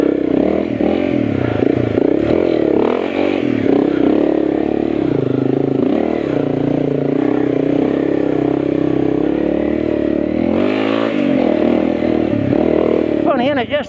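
A Honda CRF301L dirt bike riding a warm-up trail in Pai, its engine droning loud and close throughout, revving up and down with clattering surges as it climbs and rolls over rough ground.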